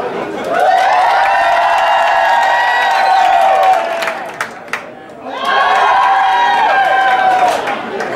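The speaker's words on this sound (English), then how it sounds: "you're gonna clap for the person that you think should win" A crowd at a Showgirls club drag show erupts into loud clapping, cheering and whoops for a contestant, in two sustained waves separated by a short lull.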